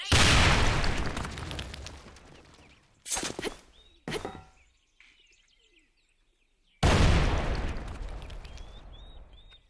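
Grenades go off in a shooter video game, heavy broadband booms that decay over a couple of seconds, followed by shorter bursts and a final loud blast, with faint chirpy game effects between.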